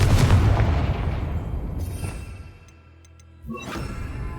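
Confringo blasting spell going off in a Harry Potter video game: a loud, booming explosion with a whooshing tail that fades, followed by a short second burst near the end.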